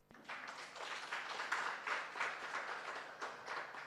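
An audience applauding at a talk show on ending FGM in Uganda, a dense, steady wash of many hands clapping for several seconds, fairly loud and sustained with a brief dip near the end.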